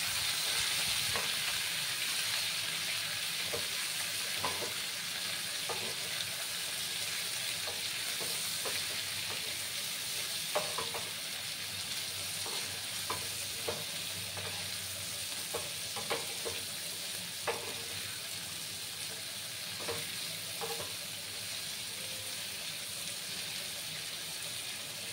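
Vegetable stalks frying with turmeric being stirred in, a soft continuous sizzle with occasional light scraping clicks from the spoon, fairly quiet and close.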